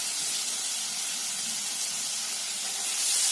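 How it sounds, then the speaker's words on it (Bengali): Potatoes dropped into very hot oil give a steady, loud, close hissing sizzle that holds evenly throughout and swells slightly at the end, with no talking. "এখন আলুগুলো দিয়ে দেবো। গরম একটু বেশি হয়ে গেছে তেল।"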